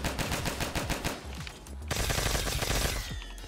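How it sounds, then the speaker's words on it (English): Rapid automatic gunfire from a cheese gun in a Call of Duty custom zombies map, loud and continuous bursts of shots with a brief change in tone midway, no talking over it. "Can you shoot it with your cheese gun?"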